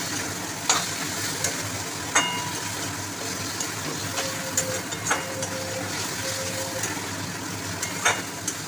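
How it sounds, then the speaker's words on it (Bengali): Mutton fat sizzling and frying in a pan while being stirred with a spoon, a steady crackling hiss with occasional sharp scraping knocks, close and continuous with no talk. "এইবার আমি দিয়ে দেবো মটনের ফ্যাটগুলো, তারপরে একটু দিয়ে ভালো করে কষিয়ে নিতে হবে।"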